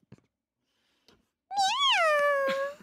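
After a few faint taps, a person gives one long, drawn-out imitation of a cat's meow, close and clear, rising then falling in pitch.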